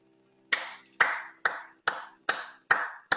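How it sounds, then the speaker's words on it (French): A single person claps alone at a performance: seven sharp, close, evenly spaced claps at a steady, unhurried pace over near silence. "J'applaudis pour tout le monde, ils peuvent pas applaudir, donc j'applaudis."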